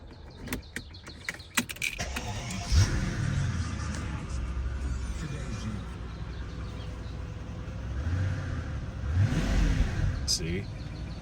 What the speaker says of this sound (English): I'm going to restart the car and see if that resets anything.